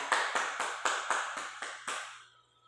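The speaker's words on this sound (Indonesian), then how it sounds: "Kita berikan aplaus yang semangat lagi bagi mereka" Brief claps ring out from a small group, about eight evenly spaced sharp slaps, fairly close, then a short fade into quiet.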